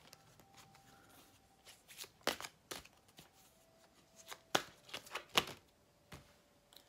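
Tarot cards shuffled by hand in a quiet room, giving a series of sharp riffling flutters and soft card slaps in irregular bursts, faint and close, with no talking.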